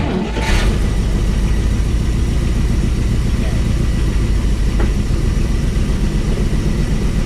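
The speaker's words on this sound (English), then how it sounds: "Let's do a test with the engine fired up" A vintage car's engine runs steadily at idle close by after a transaxle service, a loud continuous low rumble with a faint click near the start.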